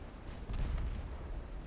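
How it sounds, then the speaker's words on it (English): A torpedo strikes a cruiser in Ultimate Admiral: Dreadnoughts, giving a sudden deep boom that rolls into a sustained low rumble of game battle noise, with no voices. "Instant friggin' torpedo explosion."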